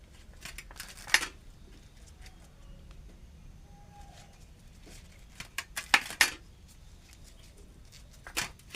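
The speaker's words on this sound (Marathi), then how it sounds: "आणि आता हा आळू पण चिरतो." A knife slices through colocasia (alu) leaves and stems on a board, giving scattered sharp cuts and taps, some louder clusters near the end, with quiet pauses between strokes.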